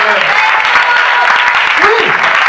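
A church congregation applauds and acclaims the Lord with dense, continuous clapping, and voices sound over the applause.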